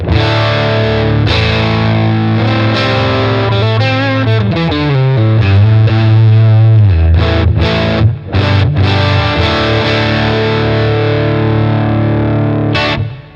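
Electric guitar through a BOSS Katana 50 MKI amp on its dirt channel, loud and continuous overdriven chords and riffs with sustained distorted tone and a few brief choppy breaks, played alone with no voices.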